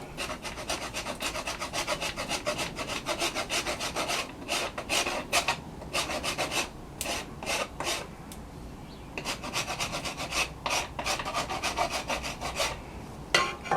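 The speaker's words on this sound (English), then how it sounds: "One more little burst with a rasp." A rasp files the sapwood of a wooden bow in steady, rapid back-and-forth strokes, close and continuous with brief pauses, no voices.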